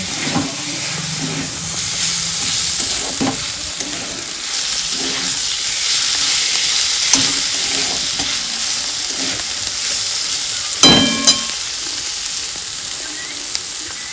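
A ground paste of mustard and green chilli fries in a pan for a Bengali banana flower curry, hissing and sizzling steadily while a spoon stirs and scrapes, with one louder clatter late on.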